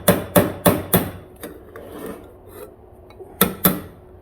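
Sharp metallic taps on heated sheet metal ring out in a quick run of four, then a few softer scattered knocks and rubbing, ending with two more crisp strikes.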